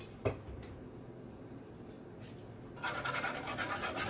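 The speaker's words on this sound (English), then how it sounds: "Just whisk that first. I know that's kind of noisy." A whisk beating homemade pumpkin creamer: a quiet soft scratching at first, then a louder fast rhythmic scraping and clinking of the whisk in the last second or so, with no talking.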